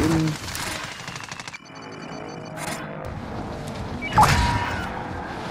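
Gunfire in Call of Duty: Modern Warfare, with bursts of rapid shots and a sharp blast, heard alongside game effects and players talking.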